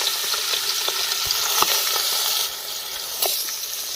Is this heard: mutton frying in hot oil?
yes